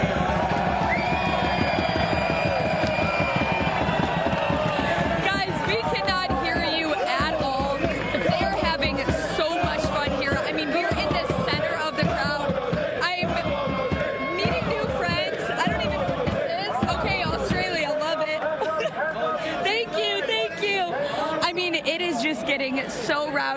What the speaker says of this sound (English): They've been cheering nonstop for 2 hours